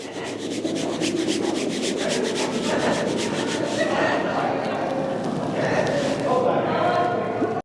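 Steady, vigorous curling-broom sweeping scrapes over ice with rhythmic strokes, nearby and continuous, with voices mixed in.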